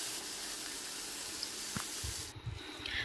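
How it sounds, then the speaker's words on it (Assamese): Fish frying in hot oil in a wok gives a steady, low sizzle that hisses evenly throughout, with a few faint pops and knocks near the end. "আৰু মই মাছখিনি এতিয়া ভাজি লওঁ।"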